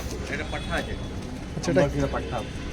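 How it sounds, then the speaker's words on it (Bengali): Pigeons of fancy breeds at a sale coo in short, low, throaty bursts nearby, with people talking over them. "এখানে যা কবুতর দেখতে পাচ্ছ তোমরা সব আর্জেন্ট সেলের জন্য থাকবে"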